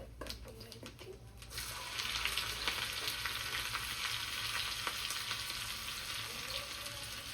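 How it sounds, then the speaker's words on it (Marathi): Cumin and mustard seeds dropped into hot ghee, a few clinks and faint popping first, then a sudden bright, steady sizzle that carries on, close and moderately loud. "तूप असं 2 ते जिरे, मोहरी टाकायची."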